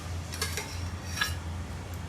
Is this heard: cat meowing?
no